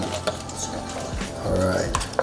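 Cream of wheat is stirred in a pot with a spoon, giving soft clinks and scraping against the metal over about two seconds, with faint background voice and a couple of sharper taps.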